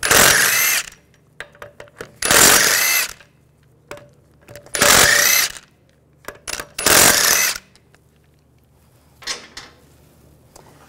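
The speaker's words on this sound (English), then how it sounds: "Take the lug bolts out." Lug bolts come off the rear wheel of a 2006-2010 BMW 550i with a 17 mm socket, heard as four loud bursts of impact-gun rattle with quieter metallic clinks and handling noises between them.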